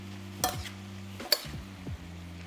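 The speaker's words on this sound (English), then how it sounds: "we're just going to stir this up" Sauce with tomatoes and a splash of liquid stirred in a pan for tilapia and vegetable orzo, two distinct scraping strokes of a utensil over a low steady hum, close and quiet, no voices.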